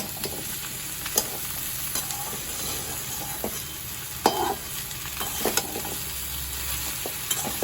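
A pumpkin and turmeric mixture is stirred in a frying pan with a steady sizzle underneath, broken by a few sharp scrapes of the utensil against the pan. No one speaks.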